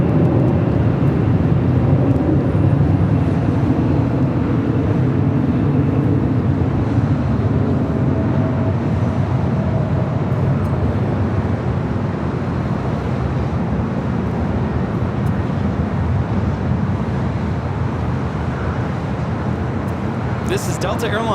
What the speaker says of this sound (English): This is Delta Airlines 413 taking off to Minneapolis on the A321.